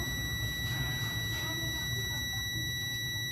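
Multimeter continuity buzzer sounding steadily while testing diodes on the secondary side of a Samsung 43-inch TV power board, a continuous high tone over low electrical hum, no voices.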